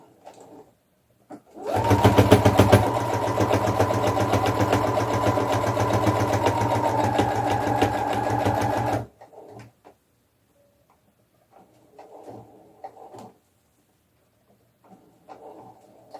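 A sewing machine stitches a rag doll's pajamas along a marked line between the legs, running in one steady, loud buzz for about seven seconds before stopping, followed by faint handling sounds.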